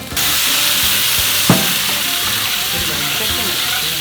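Meat sizzles loudly and continuously on a grill plate at a long-running Korean barbecue restaurant, close up, with one sharp clink partway through.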